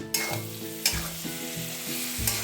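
Onions sizzle steadily in a hot pan on raised heat, close up, browning to golden, with a few sharp spatula scrapes and knocks breaking through the frying hiss.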